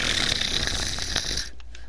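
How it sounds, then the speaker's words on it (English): Loud, steady snoring fills most of the clip, a rough droning rasp that drops away near the end into quieter breathing noise, with no talking. "gonna be snoring"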